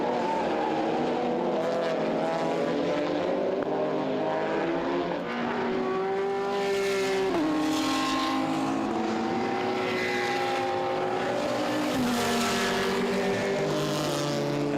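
A KTM X-Bow GTX GT race car at the Hungaroring during an ESET Cup GT race, its engine note rising and falling through gear changes as it battles other cars. The engines roar loud and continuous alongside passing traffic.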